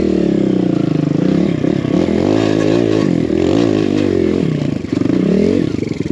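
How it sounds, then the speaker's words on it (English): A dirt bike engine revs hard and loud up close on an enduro course, rising and falling in pitch with clattering as it bucks over a log. "Now we got Cole to try and do this log hop."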